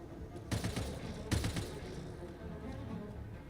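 Gunfire in the video game Mass Effect: Andromeda, two short bursts of rapid shots about a second apart over a steady low rumble of game ambience, moderately loud.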